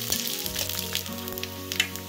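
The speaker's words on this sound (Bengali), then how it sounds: "আর দিয়ে দিতে হবে পাঁচফোড়ন, এগুলোকে হালকা করে নেড়ে নেড়ে ভেজে নিতে হবে।" Coriander seeds and panch phoron spice mix frying in hot oil while being stirred for a pickled jujube achar, giving a close, steady sizzle with scattered crackles and pops, with no voices.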